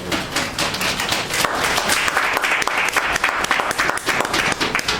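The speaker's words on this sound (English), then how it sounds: "Okay, can y'all stand and y'all give them a hand, a round of applause." A crowd at a football national signing day event gives two people a round of applause, loud, close clapping with distinct individual claps and some thumps standing out from the mass.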